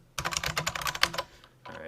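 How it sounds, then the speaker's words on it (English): Rapid clacking on a computer keyboard, a dense close run of keystrokes for about a second, then a short pause and a few softer taps. "then I can start typing in text right here"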